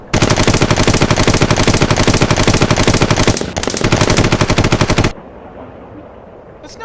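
Machine gun fire in an animated cartoon: a loud, fast, evenly spaced stream of shots lasts about five seconds with one brief break, then stops abruptly into quiet.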